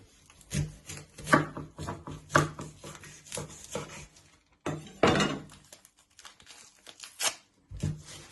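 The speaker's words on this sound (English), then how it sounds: "You first want to chop your end off." A knife chops the end off an onion during prep for a sausage and lentil stew, giving a series of close, sharp cutting thunks and scraping rubs with brief pauses between strokes.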